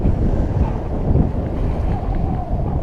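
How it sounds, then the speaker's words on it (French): Strong west wind of 25 to 30 knots on a sailboat sailing off the coast between Port Grimaud and Figuière, a loud, dense, continuous roar of wind buffeting the microphone mixed with rushing water. "c'est le vent"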